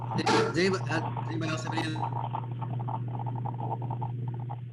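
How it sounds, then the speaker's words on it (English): A foster dog barks and yips a few times near the start, under a voice, over a steady electrical hum before the sound settles into talk. "sorry about the foster dog"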